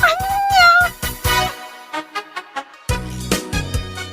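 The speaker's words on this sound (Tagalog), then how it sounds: "Nagadulakit din na pusa dito'y balayaw." Several short cat meows sound in and around a house, close and clear, one drawn-out call followed by a string of brief mews with short pauses between them.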